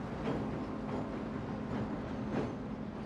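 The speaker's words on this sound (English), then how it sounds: "the train rumbles along the 975 feet of wooden trestle" The Spirit of Washington dinner train rumbles steadily across a 975-foot wooden trestle, a continuous close, heavy rolling drone with faint rhythmic clatter and no pauses.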